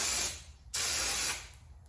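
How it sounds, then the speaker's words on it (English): Two short bursts of aerosol carburetor cleaner hissing into a 1994 Yamaha YZ250 two-stroke carburetor, close and bright, separated by a brief pause. "I spray out anyway just to make sure we're not missing nothing."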